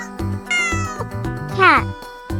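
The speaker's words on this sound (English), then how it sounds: "cat" Cartoon cat on a farm giving a clear, close meow with a rising and falling pitch, set over a bouncy children's music backing.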